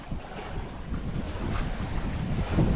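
Steady wind buffets the microphone aboard a sailboat heading toward Hen Rock at Catalina Island, about 6 knots of boat speed in close to 10 knots of wind, with water washing and rushing continuously beneath.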